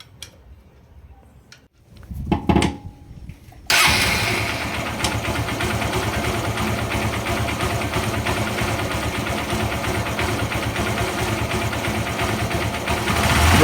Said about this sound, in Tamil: நெக்ஸ்ட் வந்து வண்டியை ஸ்டார்ட் பண்ணி பார்ப்போம் எப்படி இருக்குன்னுட்டு